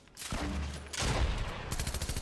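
Rapid bursts of machine pistol fire in a video game, loud and close, two dense volleys with a brief gap between them and a final stuttering run of shots, with no talk over them.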